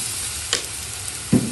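Chili sauce and soy sauce are stirred into food in a sizzling pan, with a steady frying hiss broken by two quick scraping stirs of a utensil.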